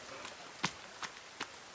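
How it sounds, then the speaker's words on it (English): Footsteps in the video game The Forest, three faint, evenly spaced soft steps heard alone against quiet background hiss. "I thought I heard footsteps."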